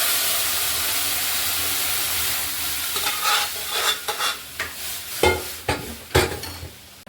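Rice, cashews and grated coconut frying in ghee in a pan, a steady broadband sizzle with scraping stir strokes becoming more distinct and irregular in the second half, no voices.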